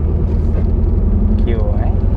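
A 1999 Chevrolet Camaro's LS1 V8 rumbles low and steady beneath a voice talking close by.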